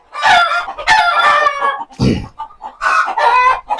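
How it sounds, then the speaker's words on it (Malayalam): Loud, close clucking and squawking from chickens on a cattle and goat farm, several bursts in a row with brief pauses between them. "കോഴികളൊക്കെ ഇരിങ്ങനെ നമ്മളെ കണ്ടപ്പോൾ നല്ലപോലെ കൊക്കരിക്കുന്നുണ്ട്"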